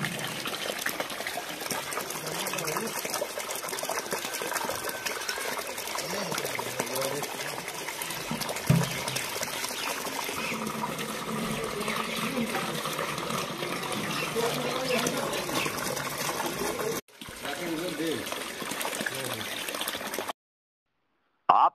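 Water gushes steadily and wastefully from a leaking public water supply line, a continuous loud rushing flow that holds for about twenty seconds before a brief break and a cutoff.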